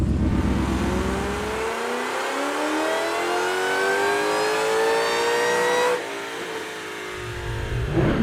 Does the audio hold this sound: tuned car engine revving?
yes